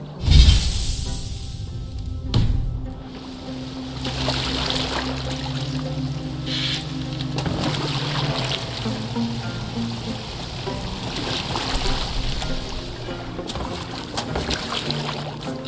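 A boat moves across water in Assassin's Creed Valhalla, with steady splashing and lapping from the hull under a low ambient drone and a faint game soundtrack throughout.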